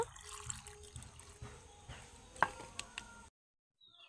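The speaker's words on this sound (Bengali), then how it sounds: "আবারও বেশ কিছুটা জল দিয়ে দেব।" Water pours into a mixer grinder jar over leftover chopped raw mango pieces for a mango pudding, a soft close trickle with a few light clinks, then quiet at the end.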